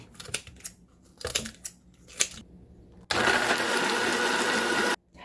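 Kitchen blender grinding a kimchi seasoning of cooked rice, water and green and red chili peppers, starting after a few rattling clicks and knocks, then a loud continuous whir for about two seconds before stopping abruptly.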